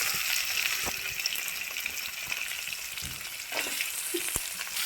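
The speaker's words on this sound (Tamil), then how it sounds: "இஞ்சி பூண்டு பச்சை மிளகாய் அதையும் போட்டுக்கிட்டு வதக்கிக்கோங்க" Ginger, garlic, green chilli and onion sizzling in a pan, a steady close frying crackle with brief stirring clatters, no voices over it.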